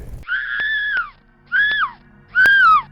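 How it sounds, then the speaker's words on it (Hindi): A witch's terrifying scream in a Hindi horror tale, three drawn-out wailing shrieks in close succession, loud and up front with nothing else beneath them. "वह भयानक आवाज में चिल्लाने लगी"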